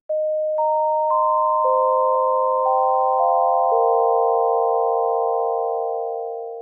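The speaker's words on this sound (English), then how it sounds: "what we have here is digital sine clean" A synthesizer preset with effects and modulation switched off plays clean digital sine tones, a few pure notes stacking into a sustained chord that fades slowly on a long release, alone with no talk.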